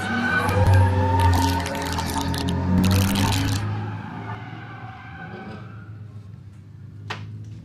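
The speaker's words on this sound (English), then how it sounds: "with all the tires squeal" Drifting car at Lead Foot City with loud, sustained tire squeal and engine roar, strongest in the first few seconds and then fading to a lower rumble, with a short sharp squeal near the end.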